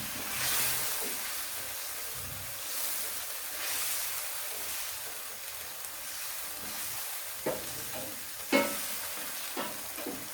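A masala fried with crushed red chili sizzles and hisses steadily in a pan, with occasional scraping stirs and a few sharper clinks toward the end, close up and without talking.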